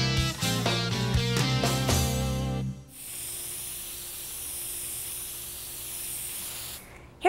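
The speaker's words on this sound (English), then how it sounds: "Here's some quick tips on using spray paint." An aerosol can of spray paint hisses in a steady, continuous spray lasting several seconds, close and loud, after a stretch of music.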